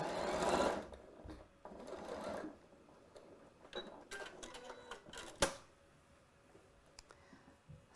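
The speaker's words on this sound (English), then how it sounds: "I'm going to sew over just the end here about 1/2 inch" A sewing machine stitches back over the end of a fabric seam for about half an inch, made while sewing a pattern cut on a Cricut Maker: brisk rattling bursts at first, then quieter mechanical clicks and handling.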